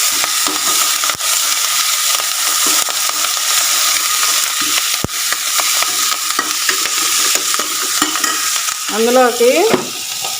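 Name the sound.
frying ponnaganti and gongura leaves in oil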